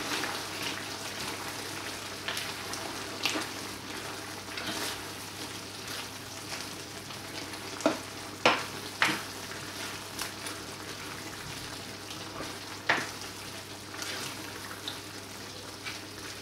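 Sauce with Worcestershire sauce sizzling in a pan while being stirred: a soft, steady frying hiss runs throughout, broken by a few sharp spoon clicks against the pan near the middle, with no talking.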